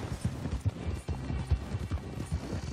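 Horse hooves clip-clop at a brisk, uneven trot in a video game, soft thuds repeating under a murky mix of game sounds at moderate volume.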